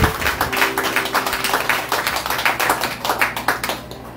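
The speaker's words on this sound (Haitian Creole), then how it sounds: "Applaudissez pour Dieu." Congregation clapping in a church service, a dense, steady patter of many hands that runs the whole time at an even, moderately loud level with no voices over it.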